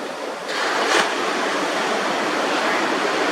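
Water washes over sand at a coastal preserve, a close, steady rushing hiss that swells after half a second and keeps flowing evenly, with no voices.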